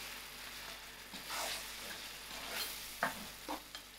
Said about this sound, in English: To my tomato, I also add in my salt and I'll allow this to cook fully.